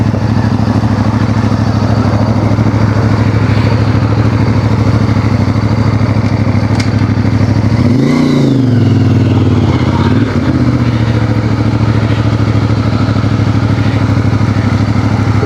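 A motorcycle engine idles loud and close with a steady rumble, then revs briefly in a short rising and falling burst before settling back to idle, all on a desert ride.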